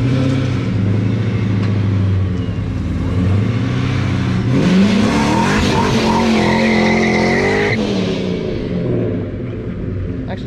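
A Ford Mustang engine roars and revs while tires squeal loudly in a sustained burnout, the pitch rising and wavering over a rumbling background.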